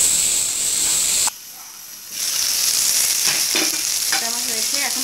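Two tomatoes added to a hot pan for a spicy tomato chicken curry sizzle loudly in a steady hiss that briefly drops away and then surges back with stirring.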